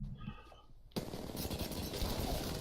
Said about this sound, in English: he is fearful of the shots from across the river